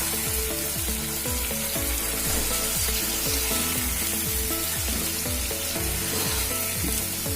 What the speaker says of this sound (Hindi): अभी नमक को अच्छे से चिकन के साथ मिला रहे हैं